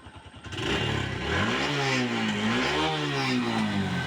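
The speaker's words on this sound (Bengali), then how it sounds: "আসুন এই বাইকের আমরা ইঞ্জিন সাউন্ডটা একটু দেখে নিই" A 2022-model motorcycle engine idles loudly up close, then revs up and down in smooth swells of rising and falling pitch, with no one talking.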